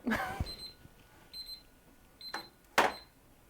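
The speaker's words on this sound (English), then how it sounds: "We got a cool timer." A timer alarm rings in short, bright electronic beeps, a few spaced bursts at moderate volume, alongside brief rustles and clatters in a quiet room.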